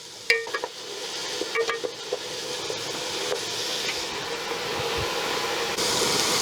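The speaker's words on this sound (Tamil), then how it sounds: "பச்சை மிளகாய், கொஞ்சம் வெங்காயம். வெங்காயம் வந்து நல்லா வதங்கட்டும்." Green chillies and onions sauté in a pot for a vegetable dum biryani. A steady sizzle is heard close by, with a few sharp clinks of a utensil against the pot early on, and no talk.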